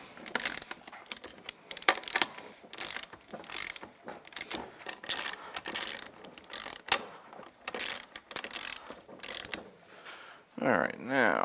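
Rapid bursts of ratcheting clicks from a hand ratchet seating the front wheel lug nuts on a 2012 Honda Rancher 420 ATV, several runs of close, sharp pawl clatter with short pauses between them.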